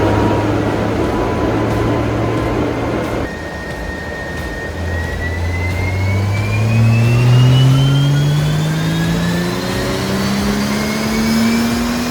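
A tuned Stage 2 BMW M840i engine revs up steadily on a dyno, its pitch climbing and holding in a loud, sustained roar, briefly dipping before rising again.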